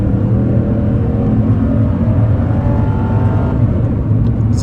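From inside the cabin of a 2002 Mercedes CL500 (C215), the engine pulls hard under acceleration, a loud, steady low rumble and whir that holds throughout with slowly rising tone.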